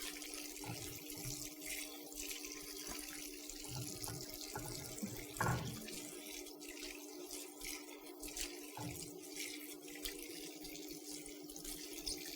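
Tap water runs steadily into a hotel washroom sink during cleaning, a constant gentle splashing hiss with occasional small clatters, fairly quiet and with no talk.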